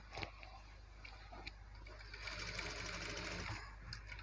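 A sewing machine runs steadily, stitching blouse cloth for a designer blouse; a brief start at the beginning, then a continuous close mechanical whir through the rest, with faint ticking undertones.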